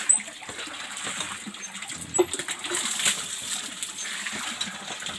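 Water gushes and splashes steadily from a free-flowing rural water source in the province, a close, continuous rushing with a few brief louder splashes and no talk.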